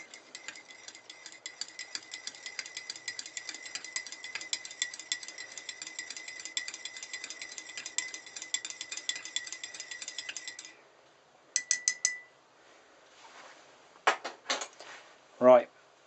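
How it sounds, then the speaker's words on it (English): A metal spoon stirs acorn coffee in a cup, a quick steady clinking scrape that runs for about ten seconds and then gives way to a few sparse knocks and a brief voice. "Give it a stir."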